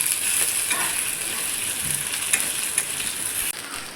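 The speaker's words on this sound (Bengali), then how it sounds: "কেটে রাখা আলু, আর তো আমি একটু ভেজে নেবো।" Cut potatoes frying in oil in a pan for a Bengali aubergine-potato chorchori, a loud, even hiss with occasional sharp crackles, dropping slightly near the end.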